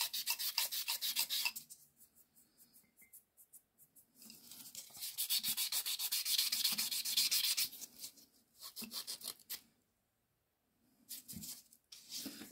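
An acrylic nail is filed by hand with a rough file, rapid rhythmic rasping strokes in close bursts separated by short pauses, with no talk over it.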